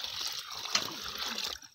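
A bucket of water poured into a rat hole in the ground, heard as a faint, brief trickling and splashing that rises and falls over under two seconds.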